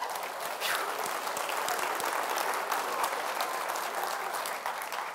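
An audience gives a round of applause during a human-calculator math show, with a steady wash of many hands clapping that swells after the first moment and holds evenly for about five seconds.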